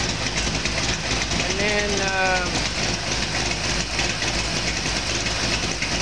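A Ford 482 cubic-inch side-oiler V8 runs rich through a 750 CFM carburetor, producing a loud, unbroken, close-up roar throughout. Someone speaks briefly over the engine noise.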